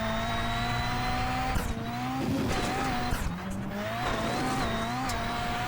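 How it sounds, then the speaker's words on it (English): Onboard a NASA Rallycross Lites race car lapping the Bark River rallycross course: a steady, loud engine drone holds throughout, rising and falling in pitch with shifts and throttle changes, with brief tire scrabble and gravel noise midway. "Let's ride on board car number 1 for a lap or so and take in the sights and sounds here in Bark River."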